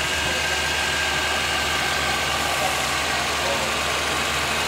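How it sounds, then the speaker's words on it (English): A Honda Accord engine idles smoothly just after start-up, a steady close hum with a faint whine, even and unbroken throughout, with no talking. "As you can hear, the engine has started off, and you can see engine is running smoothly."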